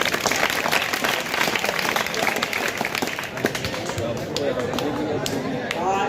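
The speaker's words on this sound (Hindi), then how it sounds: "तालियां बजाओ बच्चों, तालियां बजाओ।" Schoolchildren clap at a school ceremony, a dense, steady rattle of many hands that runs the whole time, with crowd chatter and a voice rising over it toward the end.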